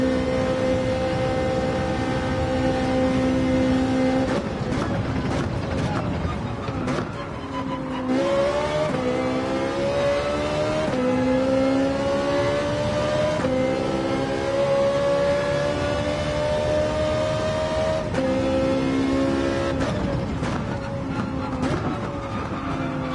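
A Porsche 911 race car lapping in Gran Turismo 7, its engine loud and close, climbing in pitch through each gear, then dropping sharply at several upshifts and braking points before revving up again.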